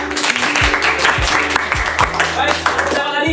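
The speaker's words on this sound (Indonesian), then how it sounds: "Kita tepuk tangan." A classroom audience claps together in a short burst of applause, with a few loud nearby claps over the crowd and voices talking through it.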